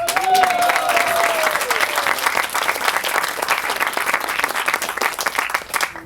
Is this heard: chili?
no